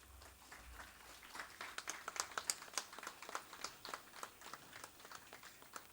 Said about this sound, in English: With a round of applause, I would love to welcome our chief guest, Dr. R.S. Paroda,